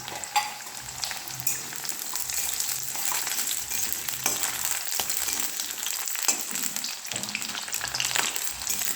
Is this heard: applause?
no